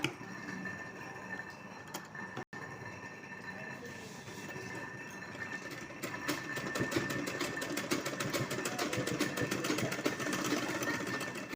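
A sewing machine stitches a strip onto a small doll dress. Its motor rattles in a rapid, steady rhythm nearby, running quieter at first and then faster and louder for the second half.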